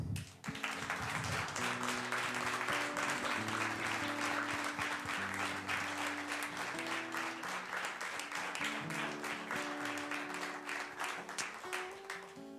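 An audience claps for a guest called up on stage, a dense, sustained round of applause running throughout. Music plays along underneath it.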